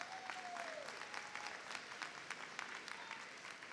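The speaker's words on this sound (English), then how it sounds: "your village, your family members, friends, your staff members give you a round of applause" Continuous crowd applause at a high school graduation ceremony, moderately distant and even, with a brief whistle-like tone near the start.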